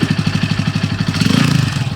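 Bajaj Pulsar N160 motorcycle engine idling close by, a steady low throbbing pulse with rapid even beats, swelling slightly midway, with a faint voice briefly audible.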